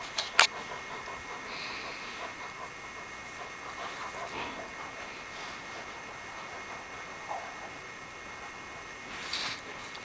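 A female Doberman gives a sharp bark at the start, followed by faint, scattered whimpers over quiet room ambience.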